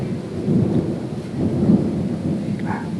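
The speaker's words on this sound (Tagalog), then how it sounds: "Na ang lakas ng kulog at yung mga kidlat pa." Low thunder rumbles and rolls in two swelling waves over a soft wash of rain, with no voices.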